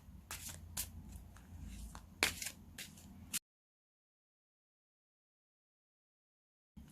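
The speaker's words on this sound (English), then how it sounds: "I'm just going to take my oracle cards and give them a quick shuffle" A deck of oracle cards shuffled by hand, with close, quick riffling and flicking snaps for a few seconds before the sound cuts to silence.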